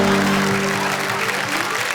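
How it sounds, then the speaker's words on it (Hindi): A burst of crowd applause, dense clapping that stays steady and fairly loud before tapering slightly, with a low hum underneath. "एक बार जरा तालियां"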